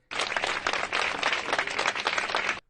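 Sustained applause from a crowd of mourners at a funeral farewell at Boğaziçi University, steady dense clapping lasting throughout with no talk.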